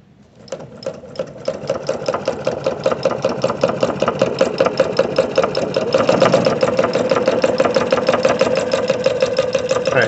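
A sewing machine stitching leather at a long stitch length runs in a steady, rapid mechanical chatter after a quick start, loud and close throughout, slightly intensifying midway, with no talk.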